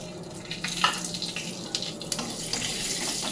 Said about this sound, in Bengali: এই তেলের মধ্যে দেবো পাঁচফোড়ন ও শুকনো লঙ্কা